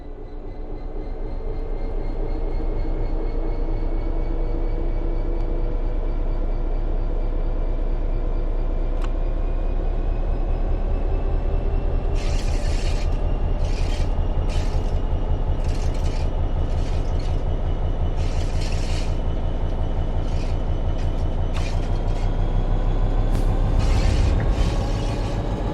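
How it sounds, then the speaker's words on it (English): Train in the Train Sim World 3 video game on Xbox Series X pulls away under throttle, a loud steady engine drone with rising tones, rhythmic wheel clatter and intermittent hissing bursts, with no talk. "Apply some throttle to get the train moving."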